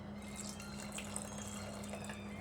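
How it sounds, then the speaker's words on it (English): Water poured into a cooking pot while making white beans with spinach and posho, a steady, soft, continuous splashing gush with a faint hum underneath, unbroken for over two seconds. "Little bit more water,"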